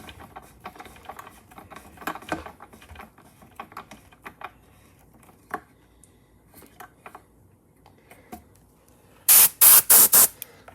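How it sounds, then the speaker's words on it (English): An airbrush gun fed by a GT 918 air compressor gives several loud, close bursts of rushing air near the end, after a stretch of faint clicks and handling noises. "there's a lot of air coming out of that gun"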